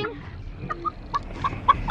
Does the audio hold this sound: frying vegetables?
no